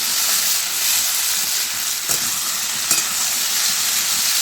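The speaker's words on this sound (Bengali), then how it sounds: "এগুলো ভালো করে ভেজে নিতে হবে।" Fish frying in a pan for papaya ghonto, a strong, steady, close sizzle throughout, broken by two soft taps of a utensil against the pan; no one speaks.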